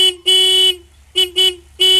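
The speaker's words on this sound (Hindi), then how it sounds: "अरे वो हॉर्न कौन दे बाहर" Three car horn honks outside: one long blast, then two short toots in quick succession, then another honk, loud and close with a bright buzzing tone.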